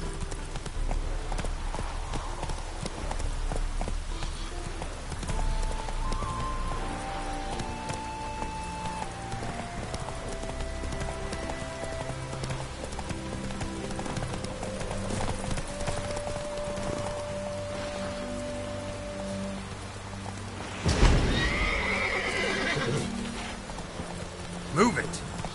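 A horse walks with a steady clip-clop of hooves over a bed of background music, and a brief louder burst near the end may be a neigh.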